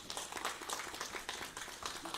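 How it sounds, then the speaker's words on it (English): Parents at a Sunday satsang at Maharishi Dayananda Gurukula applaud their children, a soft, steady patter of many hands clapping together in a small room, heard somewhat distantly. "Parents, give your children a round of applause."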